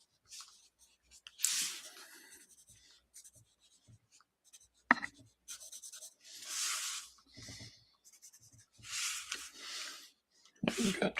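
Pencil or pen strokes on paper while sketching a comic-style figure by hand: quiet, close scratchy bursts of varying length, separated by pauses, with a sharp tap partway through.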